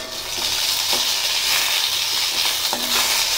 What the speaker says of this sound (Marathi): आता ह्या हिरव्या मिरच्या मी भाजणार आहे, भाजून घेणार आहे